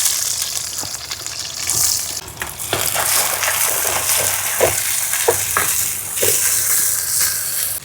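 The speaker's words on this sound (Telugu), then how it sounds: "సన్నగా తరిగిన ఎర్రగడ్డ ముక్కలు వేసుకుందాం." Thinly sliced red onions frying in a pan with a steady sizzle and occasional scraping clicks of stirring throughout.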